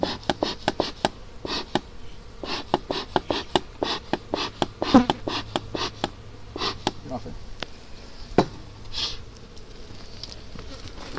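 Honeybees buzz around an open hive during an inspection, with scattered close buzzing passes and light taps and knocks from handling the frames, heard intermittently across the stretch.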